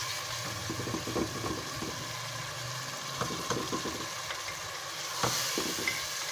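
Masala for potato mince (aloo keema) frying in a pan, a continuous soft sizzle broken by irregular scraping and stirring knocks, close and moderately quiet, with no talking.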